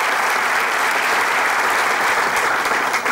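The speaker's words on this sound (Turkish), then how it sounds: "Kocaman alkışlar Ramiz'e." A studio audience at a Turkish comedy show applauds, dense, loud and sustained clapping throughout.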